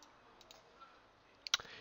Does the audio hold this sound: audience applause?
no